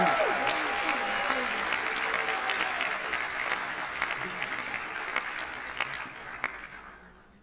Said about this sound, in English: Please give a big applause to the content team.